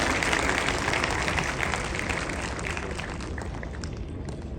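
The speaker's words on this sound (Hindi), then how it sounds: "आप लोग ताली बजा सकते हैं" A talk-show audience applauds Sister Jayanti, a steady, fairly loud wash of many hands clapping that fades only slightly as it continues, with no voices over it.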